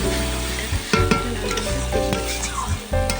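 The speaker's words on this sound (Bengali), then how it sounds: "তো চলো এটা ভালো করে কষাতে হবে।" Onion, garlic, ginger paste, green chilli, turmeric and salt fry in a pan as a masala, a steady sizzle broken by repeated scraping clicks of a spoon stirring close by.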